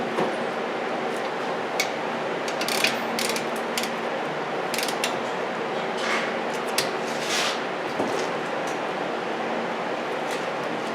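A ratchet tightens the brake caliper bolts on a 2003-2007 Honda Accord, steady clicking of the pawl with bursts of sharper metallic ticks, close and moderately loud with no talking.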